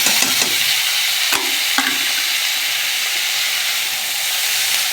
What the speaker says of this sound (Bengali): কুমড়োটা আর আলুটা একটু ভাজা হয়ে গেছে, এবারে আমি থোড়টা দিয়ে দেবো।